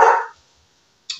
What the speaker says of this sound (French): il y a un chien qui passe.